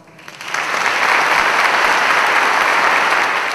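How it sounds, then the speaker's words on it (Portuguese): Applause from an audience at an evening ceremony honoring the judiciary during a Jewish-Brazilian week celebration, swelling quickly from a quiet start into steady, dense clapping that holds loud and full throughout. "a salva de palmas que eu peço neste momento a todos os senhores"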